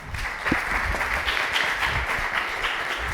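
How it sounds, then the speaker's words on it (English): Audience applause at a dispute resolution conference on decentralized justice, a steady wash of clapping held for about three seconds, fairly close and full, with no talk over it. "Sophie, listen to the applause for you."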